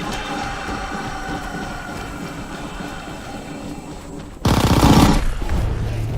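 Gunfire against zombies in a WW2 zombie shooter game, with a dense, loud burst of automatic fire starting late in the clip over a steady rumbling game background.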